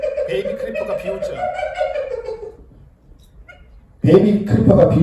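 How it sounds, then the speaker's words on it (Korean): A whiny, sneering creature vocalization for the Baby Creeper in Mickey 17 wavers in a high, nasal tone for a couple of seconds, fades to near silence, then a loud, harsh burst cuts in abruptly. "베이비 크리퍼가 비웃죠."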